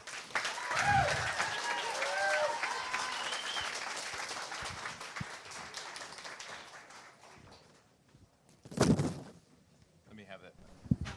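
Applause from an audience at an event on congregate care accountability, a fairly quiet, sustained patter of clapping mixed with voices, fading out midway before a brief louder burst and scattered sounds near the end.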